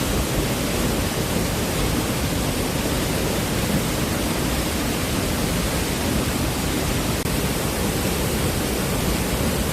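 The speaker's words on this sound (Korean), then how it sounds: "폭포 물살이 엄청 급속도로 떨어지고요" A waterfall near Seoul pours swiftly over rocks, a steady, dense roar of rushing water that fills the whole stretch without pause, close and loud, with no voices.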